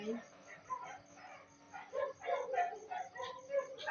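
A dog howls and whimpers in drawn-out, wavering cries, close by and moderately loud, mixed with yips, while people talk nearby.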